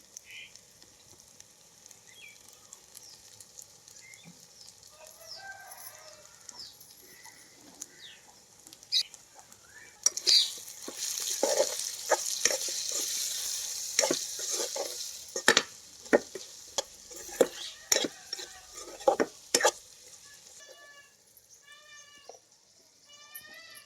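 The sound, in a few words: stirring and frying coriander powder for tomato rice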